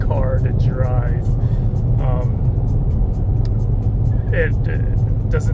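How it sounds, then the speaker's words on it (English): Dodge Charger RT four-door sedan driving on hill country roads: a loud, constant low engine and road rumble fills the cabin while a voice talks over it. "This is a very, very fun car to drive."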